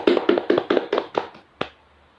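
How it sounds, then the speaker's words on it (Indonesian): A classroom of children clapping hands in a quick burst of about seven sharp claps that slow and fade, ending with one final clap before quiet. "Tepuk tangan untuk Mbak Dina."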